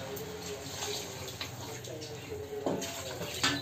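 Liquid of ground ginger, garlic and tomato water poured into a cooking pot for chicken curry, a soft steady splashing trickle, fairly faint, with a few brief clinks near the end.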